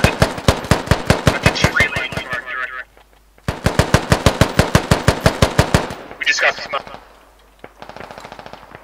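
Rapid automatic gunfire in the military shooter game Squad, two long sustained bursts of loud, closely spaced shots separated by a short pause, followed by scattered quieter fire.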